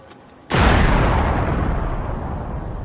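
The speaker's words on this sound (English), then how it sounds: "Suddenly, there was a loud explosion." A sudden, powerful explosion booms after a half-second of quiet, followed by a long, loud rumbling roar that slowly fades.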